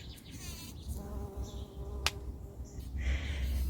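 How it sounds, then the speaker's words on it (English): A small bee buzzes around garden flowers, a faint, wavering drone rising and fading as it moves close and away, with a soft sharp click midway amid quiet yard ambience. "here's one of the little bees, and you can see he's covered in pollen"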